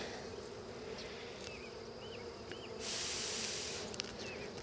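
Honey bees from a swarm buzz faintly around an opened hive during an inspection, with several short rising flight tones passing close and a brief hissy burst midway.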